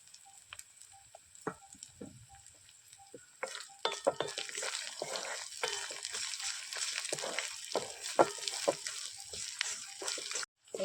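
Onions with salt fry in a pan. Sparse clicks and pops give way to a busy sizzle with scraping and stirring strokes, close and moderately loud, and no one speaks.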